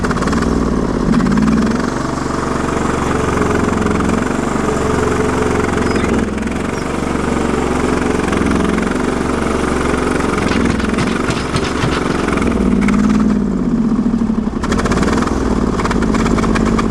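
A Briggs & Stratton 20HP V-twin on a Sears loader moving snow runs loud and close, its steady throb dipping and labouring as it bogs, then recovering.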